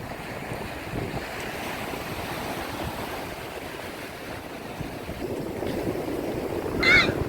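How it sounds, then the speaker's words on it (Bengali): Strong sea waves surge and wash ashore at Bheemli beach near Visakhapatnam, a steady roar of surf with wind buffeting the microphone and a brief sharper splash near the end. "ভিমলি বিচে কিন্তু প্রচন্ড ঢেউ দিচ্ছে"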